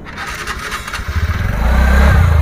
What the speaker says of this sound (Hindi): तो बाइक को स्टार्ट कर लिया है